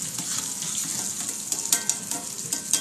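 Pork chops sizzle steadily in a pan of extra virgin olive oil and butter, a dense crackling hiss with occasional sharper pops, close and alone without talk.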